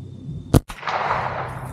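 A single sharp crack from a Ruger 10/22 rifle fired outdoors, close and loud, followed by a brief decaying echo and quiet ambience.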